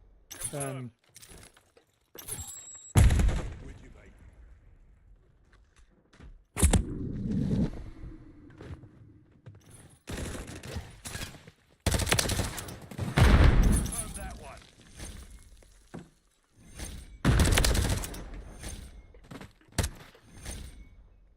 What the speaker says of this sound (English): Shooting at bodies on the ground now because I don't bloody trust.